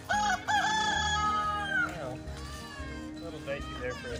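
A rooster crows loudly and close at a homestead chicken coop, the long drawn-out call opening the moment, followed by other chicken and fowl calls mixed with people talking nearby.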